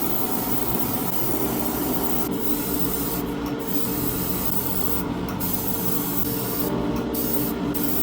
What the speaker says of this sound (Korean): 도료는 두 번 나눠 얇게 뿌려서 뭉치지 않게 덮어줍니다